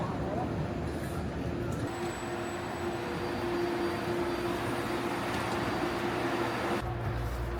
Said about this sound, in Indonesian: Jadi kita sekarang udah ada di kereta Airport Express menuju City